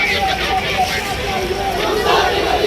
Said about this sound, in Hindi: मुहर्रम पर ताजिया दफ्न करने जा रही भीड़ में नारा गूंज रहा है